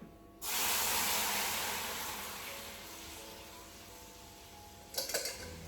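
A cooked mixture of turmeric, salt and pepper poured into a hot pan bursts into a loud, steady sizzle that slowly fades to a softer hiss, followed by a brief clatter near the end.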